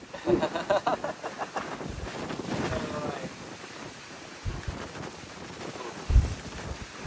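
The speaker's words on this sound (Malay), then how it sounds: "Dengar bunyi angin ni." Strong wind on a mountain climb buffets the microphone in gusty rumbles, with a faint whistling tone from a bottle and occasional voices in the background.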